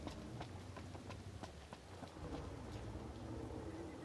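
In the video game Final Fantasy XV, rain falls with scattered close droplet taps over a low rumbling background that may be distant thunder, faint and steady, with no voices.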